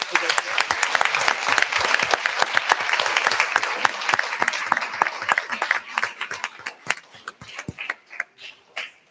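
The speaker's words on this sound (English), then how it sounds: "Let's give a round of applause for that." A school board meeting audience applauds in a dense, steady round of clapping that thins into scattered individual claps before fading out.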